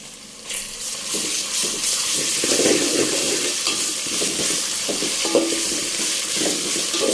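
Ginger garlic paste and onions sizzle steadily in a pan for biryani, with a dense, continuous frying hiss and occasional scraping stirs, close and fairly loud throughout.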